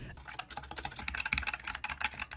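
Rapid clacking keystrokes on a $40 mechanical gaming keyboard, close and continuous with a slightly uneven rhythm.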